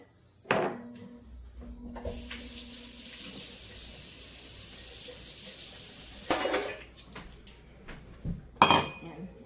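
Harvested produce washed in a kitchen sink: running tap water, clinking dishes and pots, splashing and handling knocks, fairly close with a few sharp clatters.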